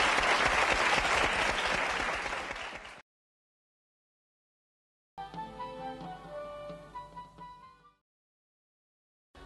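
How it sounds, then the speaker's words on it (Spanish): Schoolchildren from a school in Burgos break into loud, dense clapping for about three seconds. It stops abruptly into silence, followed by a stretch of tonal, music-like sound. "Le damos un aplauso que os va a invitar"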